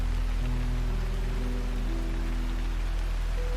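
Rain falls steadily in a woodland after sunset among fern fronds and mossy ground, a dense, even hiss of drops close by, under a low, sustained tonal hum.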